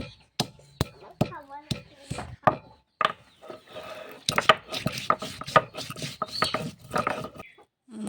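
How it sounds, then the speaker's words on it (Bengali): Whole garam masala spices being crushed and pounded, sharp irregular knocks and grinding taps up close, sparse at first and then denser and rougher, with a voice talking over part of it. "তারপরে গরম মশলাগুলো বেটে নেব, থেতো করে নিচ্ছি।"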